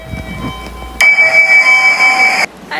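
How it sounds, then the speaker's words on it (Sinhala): A Harry Potter themed train in Tokyo gives off a loud, steady tonal whine that starts abruptly, holds for about a second and a half, then cuts off, with no talking. "ඉතින් මේ තියෙන්නේ හැරි පොටර් එකට යන්න තියෙන ට්‍රේන් එක."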